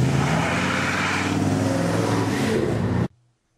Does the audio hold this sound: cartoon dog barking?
no